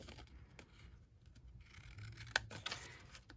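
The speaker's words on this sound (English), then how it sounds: "I'm just going to take my snips and I'm going to just cut around" Snips trimming paper around stamped words for a handmade card, heard as a few quiet, close snips and light rustling against a soft background hum.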